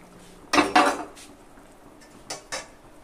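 Chopped ridge gourd and drumstick pieces drop into a metal cooking pot with a couple of sharp clattering knocks, followed by a few lighter taps of utensils against the pot, close by with no talking.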